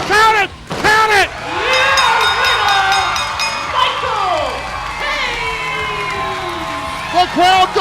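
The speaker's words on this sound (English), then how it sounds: "The crowd goes wild." Wrestling arena crowd at a cage match roaring and cheering wildly, a loud sustained wall of shouts and whoops with bursts of excited yelling, children's screams and a commentator's voice talking over the din.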